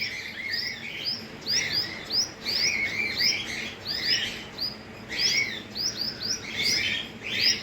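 Small birds chirp repeatedly and sharply in quick clustered bursts while attacking a pet squirrel, fairly close and moderately loud over a soft background hiss, with no talking.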